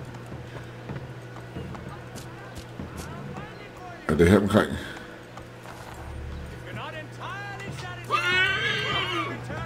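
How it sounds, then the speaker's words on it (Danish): Horse hooves clip-clop and a horse neighs in Assassin's Creed III, with a sharp burst of hoof and whinny noise midway and another loud stretch near the end, under someone talking. "Jeg kommer med hest."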